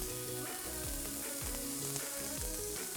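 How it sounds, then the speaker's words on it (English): Onions and jalapeno peppers sauteing in a hot pan, a steady, dense sizzle that never lets up, close and fairly loud, with no talking. "I'm going to start by sauteing the onions. I'm also going to add the jalapeno peppers."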